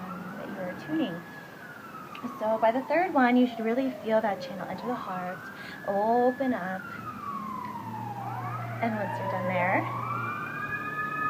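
Wailing sirens rise and fall continuously in the background while a person speaks calmly in the foreground.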